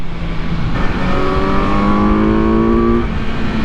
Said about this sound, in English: This inline 4 though has a beautiful, smooth, almost turbine-like top end where you just hear this spool of power that never wants to stop.